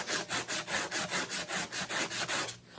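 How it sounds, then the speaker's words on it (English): An abrasive rubs back and forth over a spinning wheel (great wheel) axle during cleaning, making a steady rhythmic scraping of about a dozen even strokes, close and fairly loud, with no talking. "What I'm going to do is just do a little belly rub on it, and I'll just take it back and forth, back and forth."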